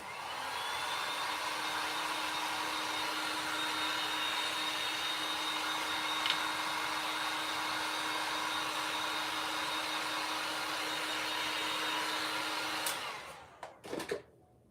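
A hair dryer blows steadily on a wet paper craft piece for a DIY circle Christmas tree, a loud, even whirring hiss that runs continuously before clicking off near the end, followed by brief handling noises.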